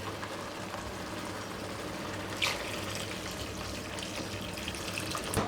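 Hot water poured into a simmering Kerala-style dried fish coconut curry, a steady running water and liquid sound lasting several seconds with a brief splashy burst midway, close and moderately loud, no talking.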